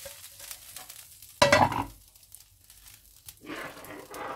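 Sambar with tempering in a pot gets a brief, sudden stir, a short burst of scraping and bubbling, followed by quiet and a softer rustle of movement.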